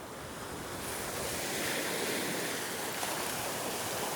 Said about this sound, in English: look at the waves here